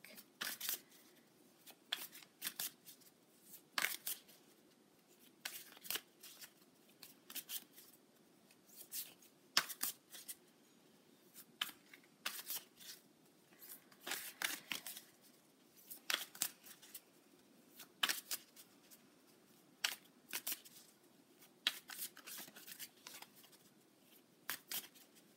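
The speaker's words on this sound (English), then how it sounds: "I'm going to pull a card from my moon deck." Tarot cards from a moon-themed deck being shuffled by hand: a long run of crisp, irregular riffles and taps, close and fairly quiet, with no talking.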